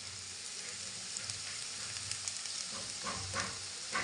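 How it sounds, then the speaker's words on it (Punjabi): Cumin seeds sizzling and roasting in oil in a pan with okra, a steady bright crackle with occasional stirring, close and continuous with no talking. "ਜੀਰੇ ਨੂੰ ਭੁੰਨ ਲੈਂਦੇ ਹਾਂ ਥੋੜਾ ਜਿਹਾ"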